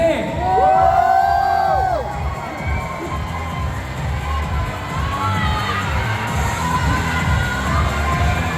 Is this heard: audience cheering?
yes